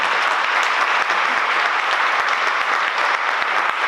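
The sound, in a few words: audience applause at gala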